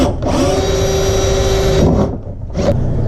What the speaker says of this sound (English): I'm going to drill one right next to it for the next switch right about here